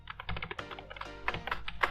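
Quick bursts of keystrokes on a computer keyboard, a rapid clicking run of a few seconds, close and fairly faint, with no talking.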